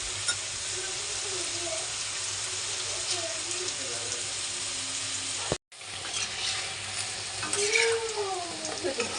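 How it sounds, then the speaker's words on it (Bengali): Potatoes sizzle as they fry golden in a pan for tehari. The frying noise is loud and continuous, with a short break partway through and a few faint stirring clinks, and no speech over it. "দেখতেই পাচ্ছ আলু আমার এখানে লাল লাল করে ভাজা হয়ে গেছে"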